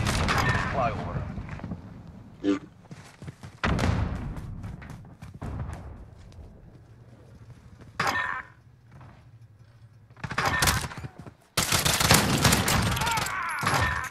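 Gunfire in an online shooter game, loud bursts and shots clustered at the start and again near the end with quieter stretches between, under game voice lines and occasional talk.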